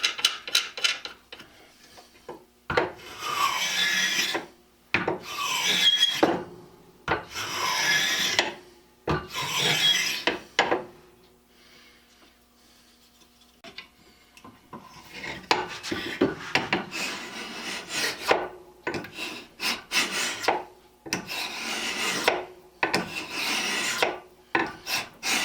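Stanley scraper plane cutting wood, rhythmic raspy shaving strokes in close repeated bursts, a quiet pause in the middle, then a faster run of scraping strokes.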